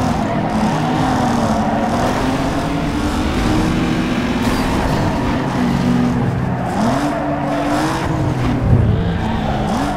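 Racing car engines in the Need For Speed Underground 2 video game, including a Supra, a Peugeot and a 3000 GT, roar loudly and continuously with rising and falling revs and brief tire squeals throughout.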